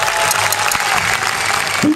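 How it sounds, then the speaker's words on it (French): Audience applauds at a Highland games strength competition, the European amateur team championship 56 lb weight-for-distance event, with dense continuous clapping close by and a voice briefly at the end. "sous les applaudissements du public"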